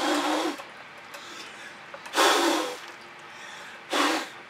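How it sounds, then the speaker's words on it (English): Three short breathy gusts of air blown by mouth onto fluid acrylic paint poured on a 14 by 14 inch canvas, each a soft rushing burst separated by quiet pauses, close and alone. "now I'm just going to blow straight into that as if I were a heat gun or an air gun"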